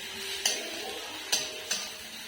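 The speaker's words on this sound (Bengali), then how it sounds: "রসুন বাটা দিয়ে দিয়েছি, ভালো করে নেড়ে দিচ্ছি যাতে রসুনের গরমটা না থাকে" A utensil stirring garlic paste in a cooking pan, with three sharp metallic clacks spaced unevenly over a low background hiss and no voices.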